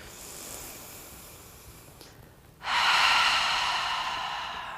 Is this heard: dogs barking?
no